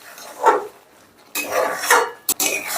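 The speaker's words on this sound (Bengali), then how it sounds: "এবার সমস্তটা আলতো হাতে মিশিয়ে দিচ্ছি।" Chicken bharta is mixed gently in a pan, giving a few soft scraping strokes of a utensil followed by a short clack, close and fairly quiet.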